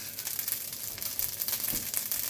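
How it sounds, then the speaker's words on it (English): Kraft Dinner macaroni sizzles and crackles in a pan, a steady close frying hiss with small irregular pops and no talking. "So I'm gonna let that sizzle up a bit."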